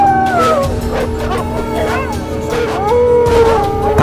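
A large pack of big dogs howls loudly, with drawn-out overlapping wails and yips rising and falling together across the whole stretch.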